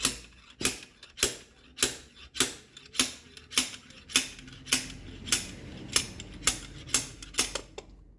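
A blind bearing puller working a fuel injector out of a Jaguar XF S 3.0 engine gives a steady run of sharp metallic clicks and taps, about two per second, close and fairly loud.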